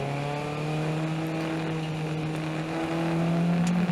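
Formula race car accelerating out of a corner on a wet Road Atlanta circuit in rain, a steady, loud, close engine drone with rising harmonic tones and a slight pitch lift near the end.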